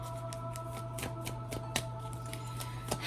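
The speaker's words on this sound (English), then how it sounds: "I'm going to pull 8 cards here." Tarot cards shuffled and pulled by hand, a run of quick papery riffles and soft slaps spaced through the moment, close and fairly quiet over a steady low electrical hum.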